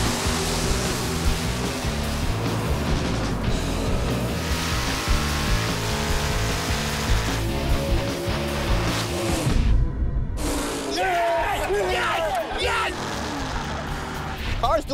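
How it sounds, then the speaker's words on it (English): Drag race between a 550 horsepower 1974 Vega and a 1982 Super Street champion Camaro at Maple Grove Raceway, loud continuous engine roar with a commentator talking over it, dropping off briefly before noise and voices resume. "Jeff Kidd's 550 horsepower 74 Vega is out to trample fast Eddie Brooks' Super Street champion 82 Camaro"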